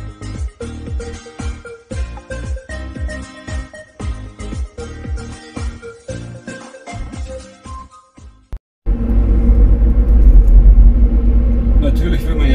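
A car carrying a large tabletop drives slowly and carefully, its engine rumbling low and steady with changing road noise. A louder, denser rumble takes over near the end.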